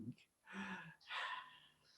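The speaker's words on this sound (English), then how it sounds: "I can hear someone breathing. Oh wait, that's just me." Close, soft breathing from a person in a quiet room: a sharp gasping inhale, then longer breathy exhales with a faint voiced edge, in short uneven bursts.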